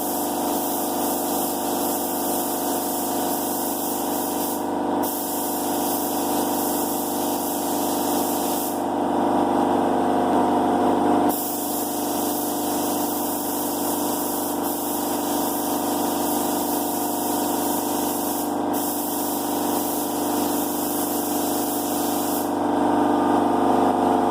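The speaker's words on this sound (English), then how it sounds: "I filtered it and put it in a real spray gun. I got the DeVilbiss GTI and gave everything the first coat." A DeVilbiss GTI spray gun lays base coat onto shaved New-Edge Mustang bumpers, giving a steady, loud hissing spray broken by a few brief pauses between passes.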